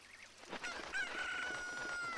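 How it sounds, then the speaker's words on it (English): An angry chicken in the Ocarina of Time video game crows and clucks in a loud, shrill burst that holds steady for about a second and a half, with no talking. "chicken's all angry"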